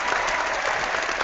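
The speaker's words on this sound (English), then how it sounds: "give me some applause, Ileane." Applause from an audience fills the short stretch with a dense, steady patter of clapping, fairly close and even, with no talk over it.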